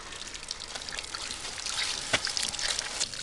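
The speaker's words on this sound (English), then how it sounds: "there's that one pig drinking out of my nippler, water nippler" A pig drinks cold piped water from a nipple waterer on a farm, giving a soft, continuous trickling and dribbling with a few brief drips and splashes, close by and fairly quiet, with no talk.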